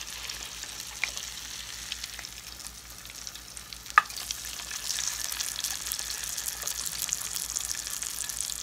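Egg frying in grease in a cast-iron skillet, a steady sizzle with a sharp clink of the spatula midway as it is flipped, crackling rising slightly afterward.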